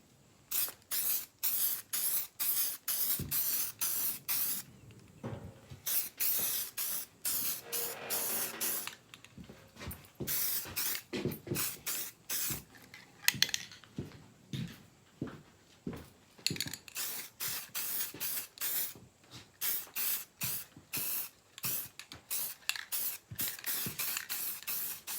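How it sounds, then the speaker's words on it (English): Spray can laying a light dust coat of primer over a car's fuel door, heard as a long series of short hissing bursts with brief gaps between them, close and steady, with no talking. "put a nice dust coat over it"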